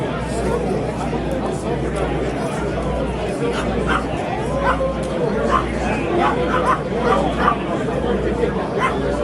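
Dogs bark now and then amid a busy crowd's chatter and hubbub at an indoor knife show, with people talking throughout.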